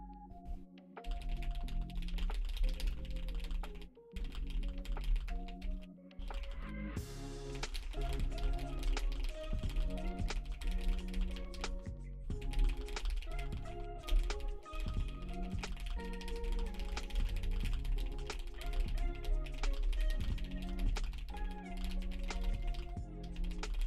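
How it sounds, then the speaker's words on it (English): Fast, continuous clacking of a computer keyboard during a Nitro Type typing race, running steadily for the whole stretch beneath louder background music. "I don't think I'm typing the best today"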